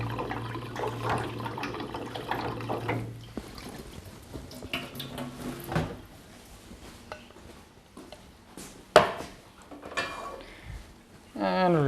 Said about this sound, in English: Just giving them a little extra rinse.